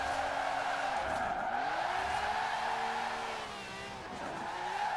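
A car slides with tires skidding in Forza Horizon 4, a loud sustained squeal with pitch wavering and dipping over a constant engine drone.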